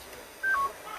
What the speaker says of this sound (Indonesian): Ini untuk tombol telepon ya, 1-0.